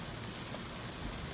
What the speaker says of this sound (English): I'm really trying to wait until the rain lets up